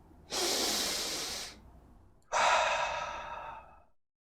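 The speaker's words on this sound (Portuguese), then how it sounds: "O menino ofega." A boy gasps for breath twice: a long, airy intake followed by a pause, then a second sharp, breathy gasp fading out.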